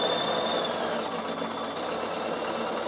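A Bernina sewing machine stitches steadily while wool felt is couched to make a door stop, set to a zigzag about 2.7 wide and 4.2 long. The motor hum is even and close throughout, with no talking.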